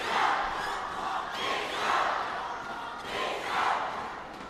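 Badminton supporters cheering in an arena during the Asian Games men's singles final, a broad roaring crowd swelling in repeated waves of shouts and chants, loud and sustained, with no clear talk above it.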